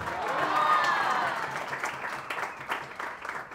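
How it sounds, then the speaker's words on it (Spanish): A crowd at a quinceañera celebration breaks into loud applause that swells early and then tapers into scattered clapping. "que viva la quinceañera y fuertes sus aplausos"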